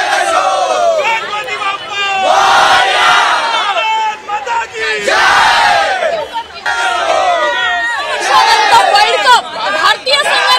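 A large crowd of cricket fans at Mumbai's Wankhede Stadium celebrates Team India's win with loud, sustained cheering and chanting in rising waves, close and dense, with voices shouting over one another.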